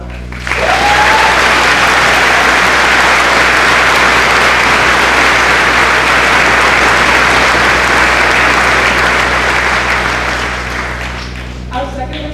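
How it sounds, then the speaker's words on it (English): A graduation audience gives a retiring high school teacher a long, loud, sustained ovation of dense clapping that swells quickly, holds for about ten seconds, then tapers off near the end. "Join me in a round of applause for Mr. Pernat."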